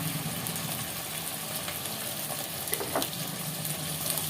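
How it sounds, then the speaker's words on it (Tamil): Tomatoes and onions sautéing in a pan for a village-style fish curry, a soft steady sizzle with faint occasional stirring, fairly quiet throughout. "இதையும் போட்டு நல்லா வதக்குங்க."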